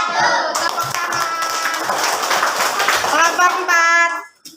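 Children in a classroom clap after a group presentation, a lively patter of hands mixed with young voices, cutting off abruptly at the end.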